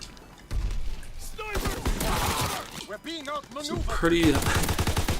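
Commonwealth rifle in Call of Duty WWII, sharp gunshots cracking over busy battle noise while a voice talks across much of the stretch.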